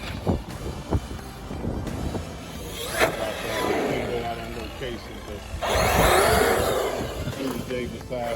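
A Redcat Mechete RC car on a 6s Hobbywing brushless system with a 42 by 78 millimeter motor can runs outdoors in bursts of whining acceleration. Wind buffets the microphone and a voice talks over it.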